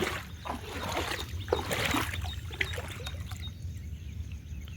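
Floodwater rushes past a washed-out road, a steady, fairly faint broadband wash with no voices.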